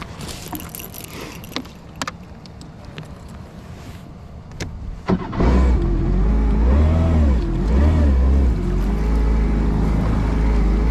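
A Kawasaki Ultra 310 supercharged jet ski engine starts and runs on the Kissimmee River, first with scattered clicks and rattles, then a loud, close, steady drone that rises and falls with throttle.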